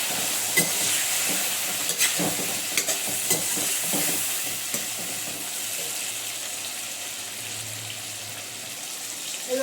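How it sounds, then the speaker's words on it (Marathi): A mixed-vegetable bhaji with turmeric is stir-fried in a pan, a soft continuous sizzle with a cluster of light scraping stirs early on, then settling into an even hiss. "हळद टाकते मी त्याच्यामध्ये चांगलं हा रस परतून घेऊया"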